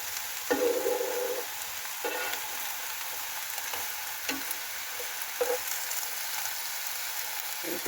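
Eggplant fries in an electric pan with a steady hiss. It is stirred now and then, with brief scraping strokes breaking through the continuous sizzle.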